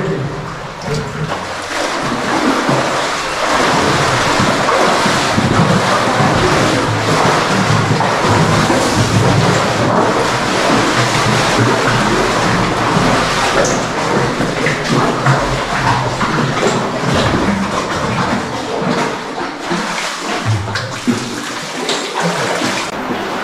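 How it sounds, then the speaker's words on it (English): A river flows through an underground cave passage reached by a pipe, a loud, continuous rushing roar of water echoing steadily for the whole stretch with no talk. "This is the endless river passage."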